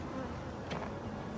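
Honeybees buzz busily across a hive frame of capped and uncapped honey during a January check, a close, dense insect drone that swells briefly midway, with no talking.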